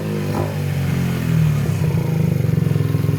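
A 50cc engine runs in steady revving bursts that stumble and cut out at the top end, loud and close throughout.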